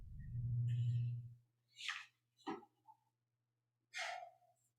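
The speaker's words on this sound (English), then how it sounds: "I was yawning" A person at a planning board meeting lets out a long, low, voiced yawn, followed by a few short, faint breathy exhales and sniffs in an otherwise quiet room.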